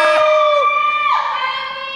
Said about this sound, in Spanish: yo quiero recibir con un fuerte aplauso y con un grito bien cabrón